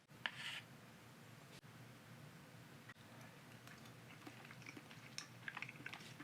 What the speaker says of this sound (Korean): 베이컨이 엄청 많이 씹혀요.